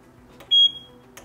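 A Zap timer sounds one short, bright electronic beep, close and clear, between faint clicks from handling.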